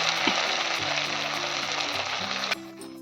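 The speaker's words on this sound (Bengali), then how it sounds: "সবগুলো আমি এইভাবে ভেজে নেব, খুব বেশি দেব না, 4-5টা করে দিয়ে ভেজে নেব।" Beetroot dhoka cakes fry in a pan of hot oil, a loud, dense, continuous sizzle with a few scraping stirs, easing off abruptly near the end.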